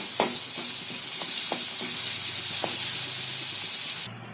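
Steady loud sizzle and hiss of garlic paste frying in oil as curry leaves go in for spiced puffed rice, with a few light clinks of a spoon, close and continuous, cutting off abruptly near the end.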